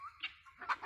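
Chickens calling in short, bright bursts, a few squawky clucks spread across a brief moment, fairly close and clear, unsettling a nearby animal named Junior on a homestead.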